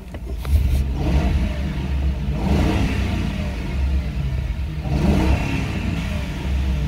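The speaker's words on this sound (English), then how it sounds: "Let me rev it up for you." A 2010 Ford Crown Victoria P71 engine is revved while parked, giving three distinct throttle blips that swell and fade over a steady, rumbling idle, recorded up close.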